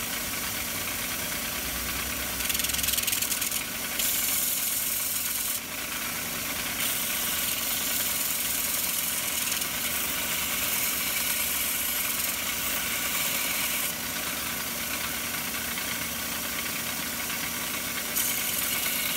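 A new belt sander grinder runs steadily while sanding a bearing razor, giving a continuous loud, broadband whirring hum with brief surges as the blade is pressed to the belt, and no talking.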